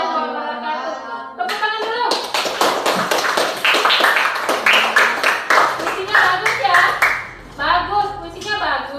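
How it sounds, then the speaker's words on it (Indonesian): Hands clap in rhythmic bursts during an Islamic religious studies lesson in a classroom, the sharp claps dense and close, with a teacher's and children's voices before and after. "Tepuk tangan dulu."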